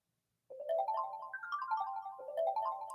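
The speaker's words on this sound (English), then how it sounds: "That's the Switch eShop loading." Nintendo Switch eShop loading music plays alone: a bright, chime-like melody with a gentle, phone-ringtone feel, starting after a brief silence and continuing as a steady tune.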